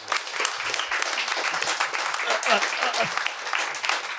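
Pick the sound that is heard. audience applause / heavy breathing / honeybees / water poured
audience applause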